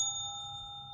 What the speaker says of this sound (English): The bell at the front desk rang.